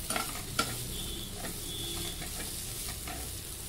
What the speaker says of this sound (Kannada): ಒಂದು 3 ಮಿನಿಟ್ಸು ಫ್ರೈ ಮಾಡ್ಕೊಳ್ಳಿ.